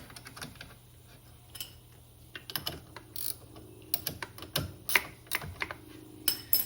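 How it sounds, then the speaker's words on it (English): Torque wrench tightening a brake caliper bolt on a 2024 CFMOTO ZFORCE 950 during a front brake change: a run of small, sharp metallic clicks and ratcheting taps, close and fairly quiet, irregular at first then bunching together, with no talk. "Tighten it up with the torque wrench until you've reached the appropriate torque spec setting."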